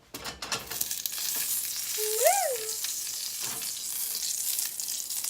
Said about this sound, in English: just throw your onions in there